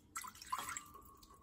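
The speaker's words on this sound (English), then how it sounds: "I'm adding 1 cup of water" Water poured from a cup into an Instant Pot around a metal trivet, a short splashy trickle that settles into a faint thin running tone before fading, close and quiet.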